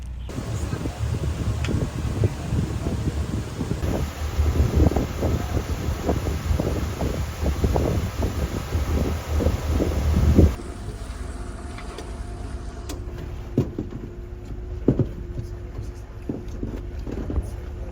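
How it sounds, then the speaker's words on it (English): Strong wind buffets the microphone with heavy rumbling gusts during a ferry crossing, and a steady engine hum sits underneath. The gusts ease toward the end and give way to quieter ambient noise. "Alright, another ferry ride down."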